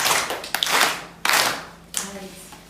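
A class of students claps hands together in a classroom, three short bursts of close, loud clapping with brief pauses between them.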